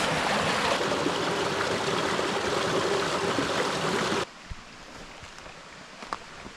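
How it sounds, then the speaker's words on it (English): Waterfall near Staw Falls, a broad steady rush of falling water that fills the first four seconds, then cuts to a much quieter background with a few faint knocks. "I can hear a waterfall in the background"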